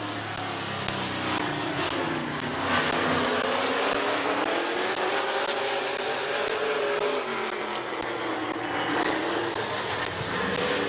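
Race car engines roar in a steady, dense drone as two cars launch into a helmet dash at a speedway, the pitch swelling and sliding as they accelerate away under the green flag.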